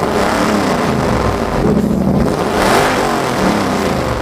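A loud, naturally aspirated race car engine at the SEMA Show 2012 roars continuously, revving up and down in waves, close by with no voices.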